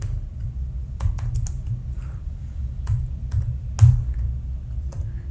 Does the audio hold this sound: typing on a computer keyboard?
yes